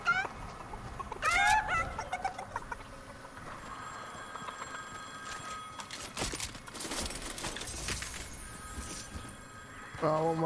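Chicken clucking and squawking in a video game, several bursts of clucks at the start and end with game sound effects and a ringing tone between, close and fairly loud.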